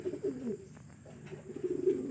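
Racing pigeons coo softly and repeatedly nearby before release for a training flight, with a low steady background and no talk.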